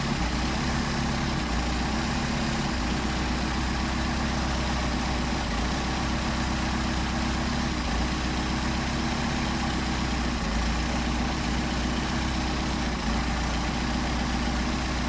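Steady, close idle of an engine fed by twin Solex 44PHH carburetors, held at low RPM around 800 with a continuous even rumble throughout and no talking.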